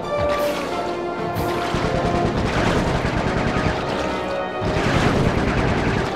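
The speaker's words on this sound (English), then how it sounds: "Oh, I hit a bridge!" A bridge collapses in the Sly 3: Honour Among Thieves video game with a loud, sustained crash of breaking debris, then a second heavy burst of smashing.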